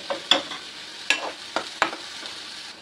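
Onions sauté in a pan while being stirred for a paneer and corn spring roll filling. A soft sizzle runs throughout, broken by several sharp scrapes and clinks of a utensil against the pan.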